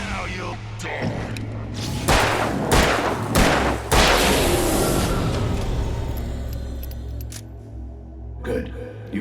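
Heavy gunshots ring out in the horror action game Alan Wake, several loud, sharp blasts spaced a second or so apart, with reverberant thuds and a low, droning ambience, and a voice speaking between the shots.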